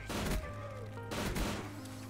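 AN-94 rifle fire in Call of Duty: Black Ops 3, two short, loud clustered bursts about a second apart with a ringing tail between them, close and without talk.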